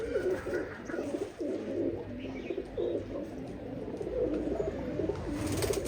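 Giribaj pigeons coo in repeated rolling phrases, several birds close by and steady across the whole stretch, with no talk over them.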